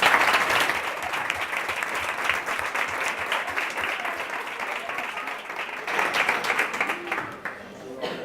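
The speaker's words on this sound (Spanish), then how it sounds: "os pido un fuerte aplauso para Silvia" A lecture audience at a talk on the anthropology of death gives a speaker warm, sustained applause. Dense clapping fills the room for several seconds, then thins out toward the end.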